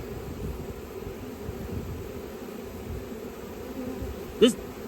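Honey bees from a swarm buzz steadily around a hive in a low, continuous hum, with one bee zipping close past near the end.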